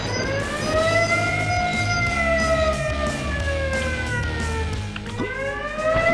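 Sirens wail in the video game Taz Wanted, several overlapping rising-and-falling tones that sound loud and continuous over a busy game soundtrack with no speech.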